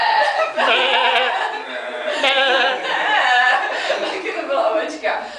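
A group of people imitate sheep bleating with repeated wavering baa sounds, several voices overlapping close up, with chuckles between the calls during a choir or ensemble rehearsal.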